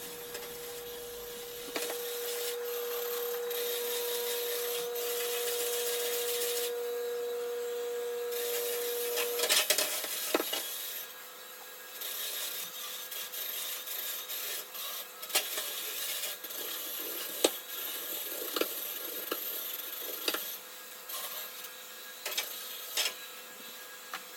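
A spin scrubber loaded with Dawn dish soap works over the inside of an oven, giving a steady motor whir with scrubbing friction; the hum runs unbroken for about nine seconds, then gives way to intermittent rubbing and scraping, all close up and with no talking.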